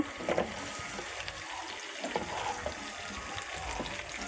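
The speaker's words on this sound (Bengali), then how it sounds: "এখন আম দিয়ে এখন একটু তেলে ভেজে নেব।" Mango pieces fry in hot oil for a spicy-sweet mango pickle, giving a steady, close sizzle and crackle with a few small pops and stirring scrapes.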